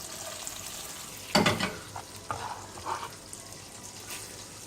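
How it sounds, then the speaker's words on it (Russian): Garlic frying in melted butter in a pan, a steady soft sizzle with a sharper crackle when the garlic goes in, followed by a few brief stirring scrapes, heard alone. "И обжариваем чеснок минутку-две."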